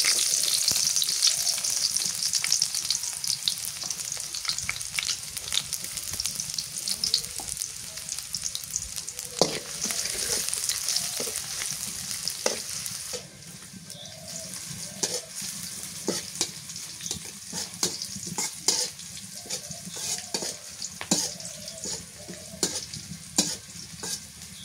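Chopped onions fry in mustard oil with black cumin in a pan, a steady close sizzle broken by frequent scraping and stirring strokes throughout, quieter in the second half.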